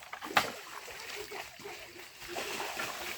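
Feet wade through shallow rural water while foraging for tadpoles and crabs with children, sending up continuous sloshing splashes close by, with a sharper splash early on and voices chatting over the watery churn.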